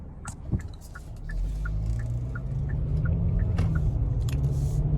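A 2023 Kia Sportage X-Pro accelerates out of a turn, its engine rumble swelling from low to a steady, louder drone heard from inside the cabin, accompanied by faint rhythmic ticking.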